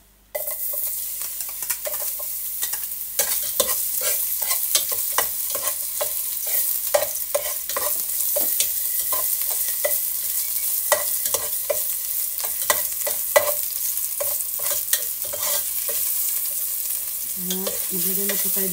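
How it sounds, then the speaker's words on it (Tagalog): Garlic frying in a little cooking oil in a pan while being stirred for chicken tinola soup: a steady close sizzle runs throughout, broken by frequent scraping stir strokes and light clinks of the utensil. "ilagay na po natin itong garlic."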